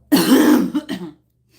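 A single throaty cough or throat-clearing burst from someone with coronavirus, close and fairly loud, followed by a couple of shorter rasping catches before silence.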